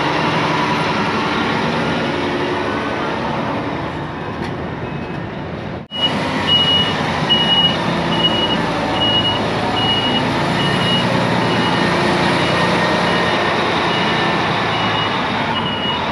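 A heavy Hyundai equipment truck carrying a full 43-ton load idles with a low engine drone while its reversing alarm beeps in a steady, evenly spaced rhythm, fairly close.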